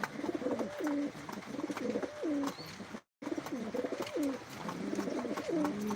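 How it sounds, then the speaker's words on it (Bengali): Pigeons cooing in a loft, repeated throaty coos in a steady rhythm close by, with a brief drop to silence midway. "এই কবুতরটা"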